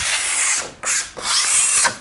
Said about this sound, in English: Nevertheless, I'll use a sharp putty knife